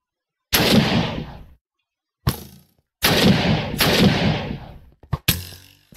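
Loud modded guns in the Minecraft video game fire in heavy, booming blasts, several separate close shots with short gaps between them and a quick double crack near the end.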